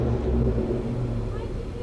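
A Ford Raptor truck fitted with a Corsa catback exhaust rumbles and revs at close range, a deep steady engine drone holding for about two seconds.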